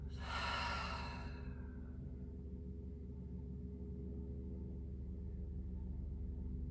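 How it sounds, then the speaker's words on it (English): One long, soft exhale out through the mouth during a relaxation breathing exercise, a breathy rush that fades within about a second and a half, followed by quiet room hum. "Take a nice easy inhale. And exhale out of your mouth."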